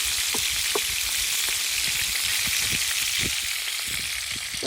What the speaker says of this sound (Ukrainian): Ось так ось обсмажується.